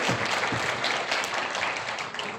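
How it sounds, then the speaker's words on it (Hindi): An audience claps loudly and steadily in honor of a retiring teacher at a farewell ceremony, a dense, continuous wash of applause with a few faint voices mixed in. "एक बार जोरदार ताली उस शिक्षक के सम्मान में बजा दें।"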